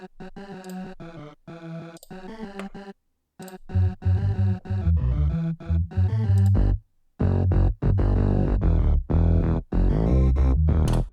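An 80s-style bass line played on a CMI vocal synth preset, a choppy run of short, loud voice-like synth notes with deep low end and small gaps between phrases, alone with no chords.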